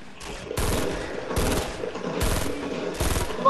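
Rapid bursts of gunfire in the Fortnite Battle Royale video game, four loud clusters of shots at a steady pace, close and dominant with no talk over them.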